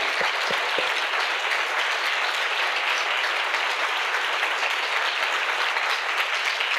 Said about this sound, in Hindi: क्या हम प्रभु के लिए एक अच्छी ताली बजा सकते हैं मिलके?